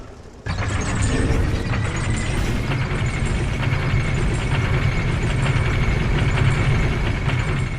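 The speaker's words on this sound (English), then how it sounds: "I love elevators" Elevator ride in the video game Dark Souls 2: a steady mechanical grinding and rumbling hum starts abruptly and runs continuously at an even, fairly loud level throughout, with no speech.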